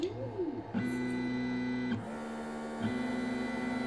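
A DIY pick and place machine built from a 3D printer picks up tiny 0201 components, giving steady motor whine with tonal stepper hum that shifts pitch in segments, plus soft clicks, close and alone.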